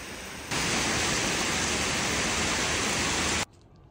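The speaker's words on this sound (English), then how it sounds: "It has started to rain." Rain falling outside on an August night, a dense, even hiss of drops that switches on abruptly, holds steady and loud for about three seconds, then cuts off into near silence.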